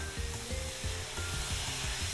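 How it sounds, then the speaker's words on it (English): A pot of green beans being stirred on the stove, a spoon scraping the pan in a steady repeated rhythm of roughly six or seven strokes over a constant sizzling hiss, close and fairly loud, with no talking. "Do you mind just stirring this while I go over?"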